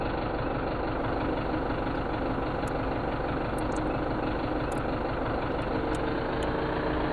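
A tractor in Farming Simulator 17 idles steadily while hooking up a forestry trailer, a constant even engine drone with faint clicks above it and no voices.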